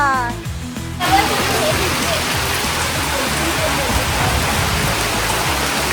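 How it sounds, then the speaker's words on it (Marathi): Steady heavy rain pours down, a dense close hiss filling the scene after a brief moment of voice at the start. "काय सुंदर आहे, पाऊस पडतोय."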